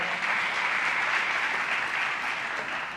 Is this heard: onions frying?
no